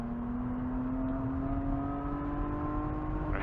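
A race car engine holds a steady, droning high-rpm tone at full throttle on Grattan Raceway, heard from inside the car as a pitch that climbs slowly and evenly throughout.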